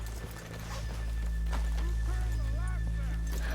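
Horses in a Red Dead Redemption town stand and snort, with a soft whinny and light hoof shuffles under a steady low rumble, and someone speaks over them.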